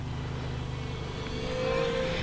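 A steady motor hum with a faint high whine, rising slightly near the end as an RC VTOL plane flies by fairly close; no talking.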